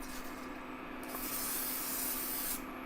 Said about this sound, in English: We're just gonna be using cooking spray.